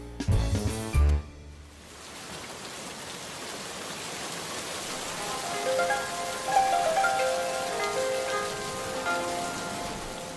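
Steady rain falls on the crowds at the August pilgrimage festivities at Kalwaria Pacławska, a dense, even hiss after a brief burst of music at the start that holds for the rest of the clip.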